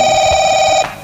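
A telephone rings with one steady electronic ring tone that lasts most of a second and then cuts off abruptly.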